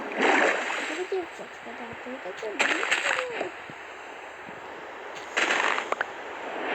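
Water splashing in short bursts outdoors, three separate sloshing surges spaced a couple of seconds apart, with people talking between and over them.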